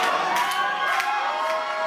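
Crowd at an independent wrestling show's Christmas special cheering and shouting together, a sustained roar with children's voices and scattered claps rising in a few brief swells.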